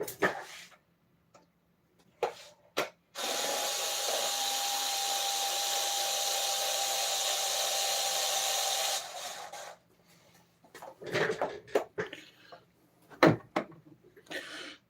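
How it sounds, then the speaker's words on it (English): A cordless power drill driving a bolt whines steadily for several seconds, loud and close, with a few knocks and clatters before and after. "I always use cordless drill, but I'll move it away from the mic for a sec."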